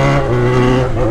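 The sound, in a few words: XJ6 car engine revving through exhaust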